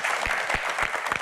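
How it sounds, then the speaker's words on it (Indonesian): Brief burst of audience applause at an Indonesian evening panel show as a panelist is introduced, a dense wash of many hands with a few stronger low thumps, steady and fairly loud throughout. "tepuk tangan hadirin sekalian"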